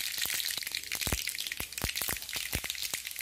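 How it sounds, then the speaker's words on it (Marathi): Mustard seeds with a pinch of asafoetida crackling in hot oil for a red chili pickle tempering, a quiet run of sharp irregular pops and snaps over a faint hiss. "मोहरी एकदम चांगली कडकडू द्यायची."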